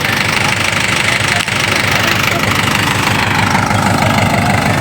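A tractor engine runs close by during a cumin harvest on a farm, a loud steady chugging idle with a rough knocking rhythm throughout.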